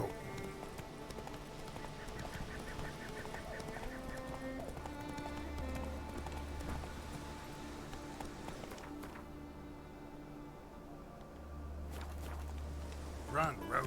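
Roach, a horse in The Witcher 3 video game, gallops with steady clip-clop hoofbeats through most of the stretch, mixed with game music and ambient sounds, fairly close and continuous.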